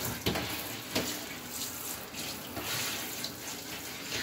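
Water from a tap or shower spray runs continuously while potted orchids are rinsed of dust and watered indoors, a steady close hiss with a few splashy bursts and no talking.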